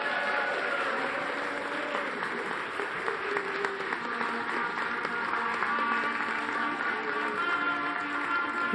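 Crowd of children and adults cheering and applauding at a staged 1578 Norwich royal pageant for Queen Elizabeth I, a steady dense wash of clapping and voices throughout, fairly loud and continuous.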